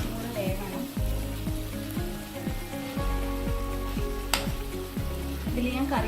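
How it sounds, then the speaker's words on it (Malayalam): Fish masala roast, Kerala style, fries in a pan with a steady close sizzle and crackle. Repeated regular clicks and scrapes of a utensil run through it, and there is no talk. "മീൻ ഒന്നും കൂടെ ഒരു 2 മിനിറ്റ് കൂടെ വേകണം."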